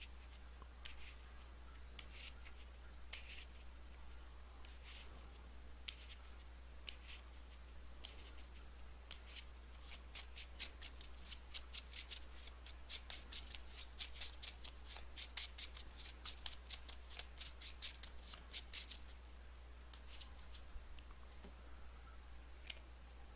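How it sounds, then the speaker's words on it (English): Playing cards for the Arkham Horror card game being shuffled by hand at a table: a long run of soft, quick, crisp clicks and riffles, quiet and close, with denser flurries in the middle and no talking. "So we'll shuffle that in really quick."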